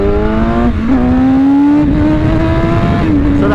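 A BMW S1000RR motorcycle accelerates hard in second gear, its engine note rising steadily in a loud, close, continuous howl, with a brief dip around a shift before climbing again.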